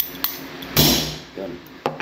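A light hammer gives a few sharp, separated taps on a receiver during a leak test, with brief quiet gaps and a voice speaking in between.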